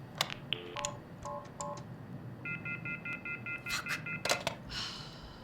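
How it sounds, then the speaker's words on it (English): Telephone keypad tones from the horror video game The Mortuary Assistant: a quick series of distinct dialing beeps followed by a steady repeating ring-style tone pattern, with faint background ambience and no voices. "So we have a magic phone that only dials one phone number."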